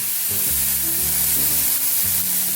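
Garlic and vegetables cooking in a hot pan for a chicken pasta dish, giving a loud, continuous sizzle and crackle with faint low hums and clinks beneath, no talking.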